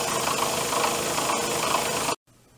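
Metalworking machine cutting the second tooth of a gear with a light pass and coolant mist running, a steady loud mechanical drone and hiss that stops abruptly near the end, leaving quiet room tone.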